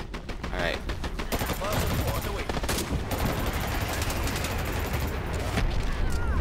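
Loud, dense gunfire fills a ranked competitive match of the shooter Dirty Bomb, sharp cracks of rifle fire overlapping in rapid bursts throughout, with a player talking over it.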